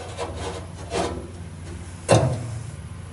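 Unscrewing and pulling out the climatizer control from a 1949 Studebaker 2R5 truck: a few brief rubbing and scraping noises of parts being worked loose, with one sharper scrape near the end, close by and moderately quiet.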